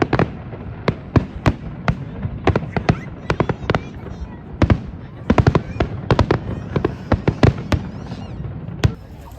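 Fireworks bang in sharp, irregular bursts, some in quick clusters, booming across an open space in Hawaii with a faint crowd murmur underneath.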